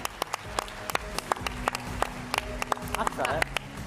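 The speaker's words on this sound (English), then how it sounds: "One more round of applause for Alevian" Scattered audience clapping, distinct sharp claps from a modest crowd at irregular intervals rather than a dense roar, with some voices murmuring underneath.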